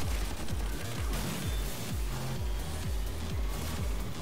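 Machine gun fire in the Blaze Rush racing game, a steady run of rapid low thumping shots repeating at an even rhythm under game engine noise.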